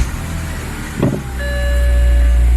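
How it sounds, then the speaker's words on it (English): A 2006 BMW E90 engine cranks briefly about a second in, then catches and settles into a loud, steady low rumble that swells and holds, with a faint high tone alongside. "Engine started up. It's running a lot smoother."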